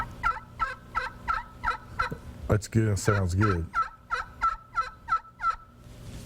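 Turkey call striker played on a call to imitate a hen turkey's soft yelp, a run of about eleven evenly spaced, close raspy notes, with someone speaking briefly partway through.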